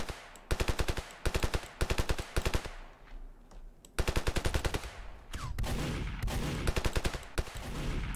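Gunfire in the video game Ravenfield: rapid automatic bursts in several runs of evenly spaced shots, with a brief lull and then a longer sustained volley, loud and close.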